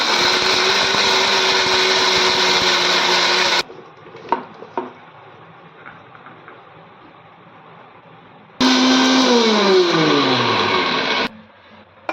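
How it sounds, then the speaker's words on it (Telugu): A kitchen mixer grinder blending grated coconut with salt for chutney roars loudly in two long bursts, whining down at the end of the second. Quieter clicks and handling sounds fill the gap between the bursts. "ఇది మిక్సీ పడదాం"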